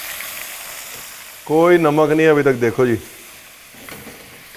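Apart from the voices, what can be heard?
mutton frying in ghee and oil in pan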